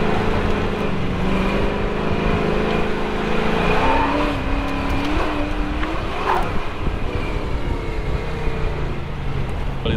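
A Ford Fairlane runs an autocross slalom, its engine droning and revving as it weaves through cones, with faint tire squeal and no talking, heard steadily throughout.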